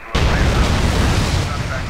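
A sudden loud blast from modded GTA San Andreas explosion effects, erupting abruptly after a short silence and then rolling on as a dense, sustained rumble for the rest of the clip.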